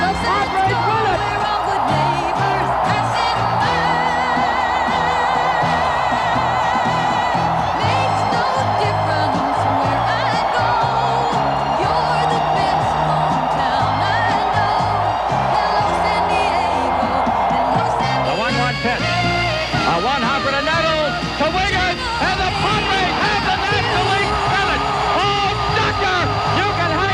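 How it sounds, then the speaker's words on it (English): A large crowd at a Padres baseball game roars, cheers and applauds steadily after a game-winning three-run homer, the loud dense din running throughout with talk carried over it. "And they are still applauding."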